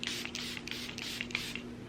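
Makeup setting spray is misted onto a face in a few quick, soft hissing puffs over a quiet background hum.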